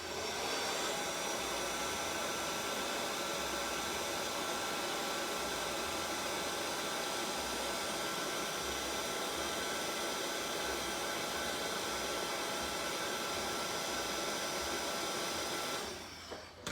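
A hair dryer blowing steadily on wet acrylic paint, a loud continuous whooshing roar held at an even level for about sixteen seconds before it switches off and cuts out at the end.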